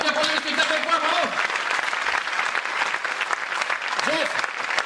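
An audience at a French comedy festival applauds steadily for about five seconds, loud and close, while a voice calls out over the clapping.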